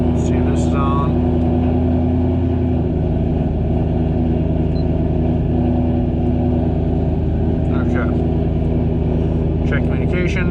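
A cammed Ford Shelby GT500 idles while warming up in a garage, a loud, steady, lumpy engine rumble running throughout, with brief faint voices over it.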